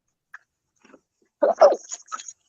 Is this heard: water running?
no